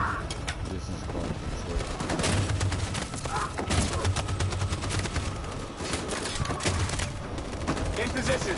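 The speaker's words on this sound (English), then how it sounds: "That machine gun is taking down everything that moves!" Sustained machine gun fire in a video game: dense, steady bursts of rapid shots continuing throughout, loud and close, mixed with battle noise and occasional voices.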